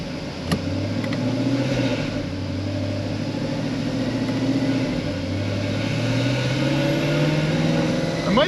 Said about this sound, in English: I'm gonna do a little auto upshift.